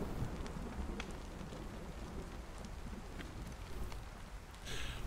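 Rain in the survival video game DayZ: a steady, close hiss of falling rain with a faint windy rumble underneath, continuous for several seconds and free of speech.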